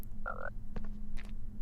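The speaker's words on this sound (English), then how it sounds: "Good old frogs." Frogs croaking in the Harry Potter and the Philosopher's Stone PS1 game, a short tonal croak followed by a few sparse clicks and chirps over a low steady game hum.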